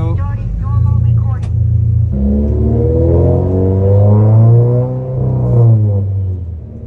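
Racing-prepared BRZ-based car at Mandalika with a loud aftermarket exhaust, the engine starting with a short crank and then settling into a deep, close rumble that rises and dips as the throttle is blipped, with someone talking over it.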